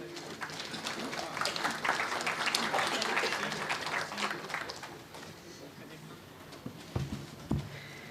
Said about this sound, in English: Let's welcome them with a round of applause.